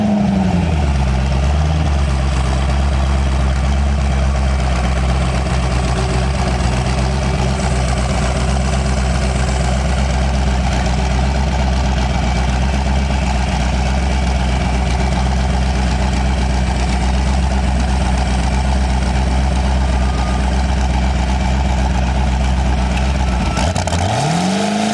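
A Mazda RX-7 rotary engine idles steadily and loudly up close with a deep, constant drone, turbocharged and set up with launch control, ending with a brief dip in pitch near the end; no talking.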